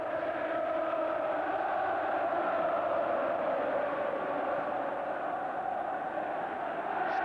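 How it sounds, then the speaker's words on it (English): A football crowd at Old Trafford for Manchester United against Everton roars as a broad, steady wash of massed voices, distant and sustained without a break. "And listen now to the Old Trafford crowd."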